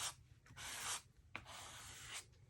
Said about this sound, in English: we pick up the paint with the paint scraper. And I'll just scrape this right onto the background.